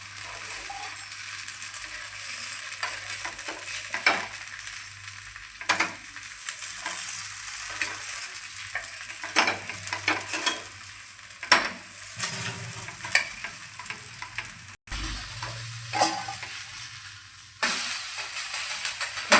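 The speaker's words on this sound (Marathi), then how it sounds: "आपलं धिरडं आता घालून भरपूर भाजत झालेलं आहे" Jowar dhirde, a sorghum-flour pancake, roasts on a hot pan with a steady low sizzle and intermittent scraping and stirring clatter throughout, with no voices.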